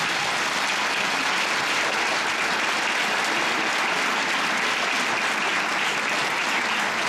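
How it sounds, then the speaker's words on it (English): A large crowd at a fan convention panel claps loudly and continuously, a thick, even roar of applause with no pauses. "I would totally clap with you"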